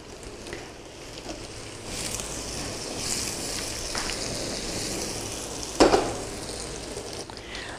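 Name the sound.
tossing boiled cumin potatoes sizzling in pan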